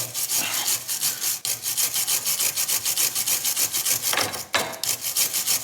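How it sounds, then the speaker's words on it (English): A wire brush scrubs rust off a drop link bolt on a BMW E90 318d during a rear wheel hub job, with rapid rhythmic back-and-forth strokes, close and steady, and a brief pause midway. "Now that's the drop link I need to take out. First, brush it out."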